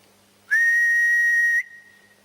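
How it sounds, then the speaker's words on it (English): A person whistles one steady, clear note inside Madame Tussauds, holding about a second, loud and close, then cutting off abruptly. "if I whistle, will you copy me? Will you whistle back?"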